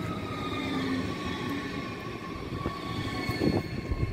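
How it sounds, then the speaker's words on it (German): An RE5 regional train pulls into Leverkusen Mitte station, a sustained rumble of wheels on rail with faint high squeals and clanks, steady and fairly close with no voices. "Hier sehen wir gerade einen Zug der Linie RE5 Richtung Düsseldorf und Duisburg einfahren"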